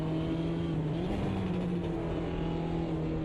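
A race car engine drones steadily in a sim racing game played on a Steam Deck, holding a high, even pitch with a slight wavering rise as the car chases another car toward a corner, with no talking.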